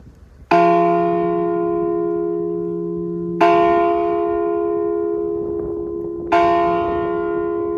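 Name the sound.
large bell ringing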